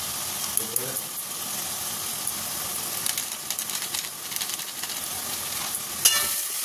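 Onion and spices fry in oil during slow koshano cooking for a Bengali dish, giving a continuous soft sizzle broken by occasional stirring clinks, with a voice briefly audible.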